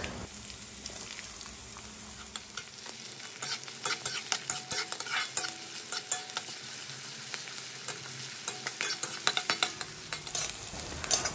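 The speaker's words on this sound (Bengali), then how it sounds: "দেখো মোটামুটি হালকা পিঙ্কিশ হয়ে এসেছে পেঁয়াজটা, বেশি কালো করে ভাজার আমাদের দরকার নেই" Onions frying in a pan for dal tadka, stirred until light pink: a steady sizzle with busy scraping and clinking of the spoon through the middle, close and fairly loud, no talking.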